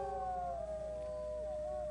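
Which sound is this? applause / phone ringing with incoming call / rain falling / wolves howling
wolves howling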